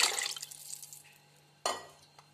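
Water poured from a mug onto soaked rice for an aloo matar vegetable pulao makes a splashy gush that trails off. A second, shorter splash comes a moment later, close and fairly quiet.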